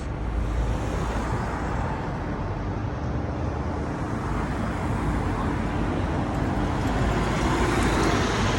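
Dense street traffic rolls past in the Sharq business district, a continuous broadband roar of cars and heavier vehicles at close to middle distance, steady throughout with no clear pauses.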